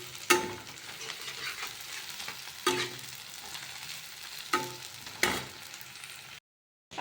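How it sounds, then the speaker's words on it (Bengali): Onions frying in a pan in a home kitchen, a steady close sizzle broken by several sharp scraping stirs, the hiss cutting off abruptly near the end. "আর এখানে আমি পেঁয়াজ ভাজছি"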